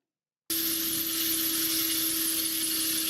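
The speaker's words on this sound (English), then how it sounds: "this will be a pre-rotation to 150 RPM and an attempt at a takeoff" A gyrocopter's rotor pre-rotates toward 150 RPM before a takeoff attempt. A loud, steady mechanical drone with a constant whine cuts in abruptly after a brief silence and holds evenly to the end.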